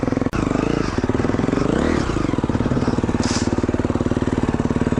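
An enduro motorcycle rides over a rough trail section being built for extreme enduro, its engine loud and close with a steady rapid thump, revving up and easing off over bumps.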